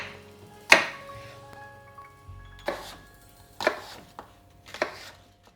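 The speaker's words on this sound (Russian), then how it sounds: "Яблоки нарезаю кубиками." Knife strikes on a cutting board while cutting apples into cubes, four or five separate chops spaced about a second apart, crisp and close in a quiet room.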